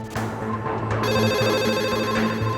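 A telephone rings with a bright, repeating electronic tone, loud and close, over a low steady hum.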